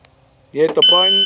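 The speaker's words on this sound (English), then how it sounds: "So you hit the button and it randomly gives this beep." A practical shooting timer gives a single loud electronic beep after a short quiet pause, sharp and close, lasting under a second.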